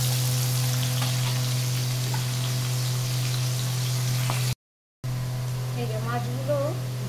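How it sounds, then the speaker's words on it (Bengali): Hilsa fish frying in hot oil for mustard hilsa gives a steady, even hiss over a low hum. The sizzle cuts out briefly, then returns with faint wavering tones near the end. "এই যে মাছগুলো ভাজা হয়ে গেছে"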